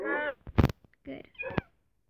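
A cat meows in a Minecraft medieval adventure map. Several short, tonal game meows are broken up by a sharp hit sound, close and clear, with no speech over them.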